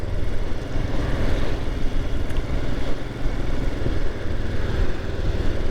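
A 2022 Royal Enfield Himalayan Scram 411 motorcycle engine runs steadily while riding, a continuous low thrumming drone heard through rushing wind, moderately loud with no speech.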